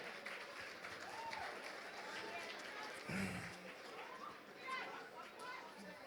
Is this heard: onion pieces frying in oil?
no